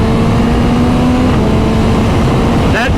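A 2025 Yamaha MT-09 SP motorcycle engine runs loud and close, with a steady roar and a quick upward pitch sweep near the end, like a quick-shifted gear change.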